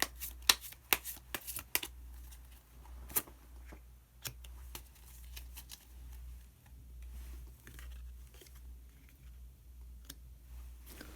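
Tarot cards being shuffled and drawn close up and quietly: quick bursts of riffling and snapping card edges at first, then sparser soft flicks and taps of single cards as one is pulled from the deck, with no talking.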